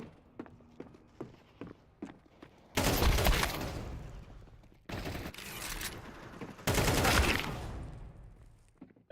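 Rapid automatic gunfire from Counter-Strike 2 matchmaking, loud sustained bursts in several long volleys separated by short pauses, with scattered single shots and footsteps between them.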